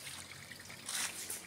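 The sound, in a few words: small waterfall trickling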